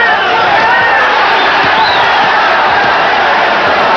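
A boxing arena crowd roars and cheers at a punch late in the round, a dense, loud, continuous wash of many voices with no single voice standing out.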